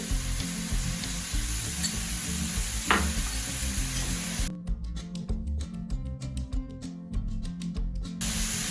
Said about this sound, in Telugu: ఆనియన్స్ కొంచెం ఫ్రై అయ్యాక కొంచెం పసుపు యాడ్ చేయాలి.